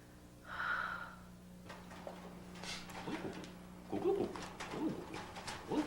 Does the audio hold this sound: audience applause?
no